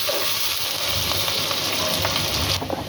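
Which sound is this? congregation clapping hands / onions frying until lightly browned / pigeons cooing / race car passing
onions frying until lightly browned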